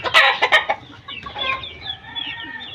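Breeder chickens on a small poultry farm cluck loudly and close at first in a few sharp bursts, then settle into quieter, continuous clucking and chatter through the rest.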